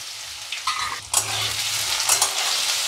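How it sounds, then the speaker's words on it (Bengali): Potato pieces fry in hot oil with cumin, bay leaf and dried chilli, crackling steadily close by. Sharp bursts mark the potatoes dropping into the pan, and the sizzle carries on with occasional stirring. "এবারে জিরে, তেজপাতা, শুকনো লঙ্কা ফোড়নে দিলাম, আলুটা দিয়ে দিলাম, ভাজা হবে।"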